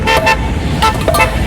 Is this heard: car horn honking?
yes